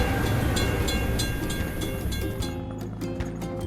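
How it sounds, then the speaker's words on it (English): Train rolling past a closed crossing in a kids' vehicle video game, a steady dense rumble and clatter throughout, with a brief brighter clicking near the end. "We have to wait for the train to pass."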